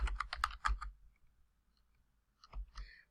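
Computer keyboard typing: a quick burst of about six crisp key clicks, a pause, then a few more taps, close and fairly quiet in a still room.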